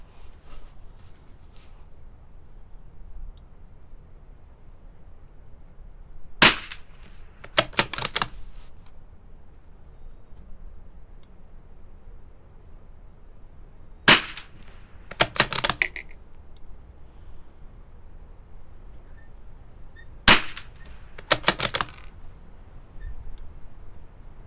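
A Marlin XT-22 bolt-action rifle fires CCI Standard Velocity .22 rounds. Three sharp, isolated cracks are spaced several seconds apart, and each is followed by a short cluster of rapid mechanical clicks over a quiet background.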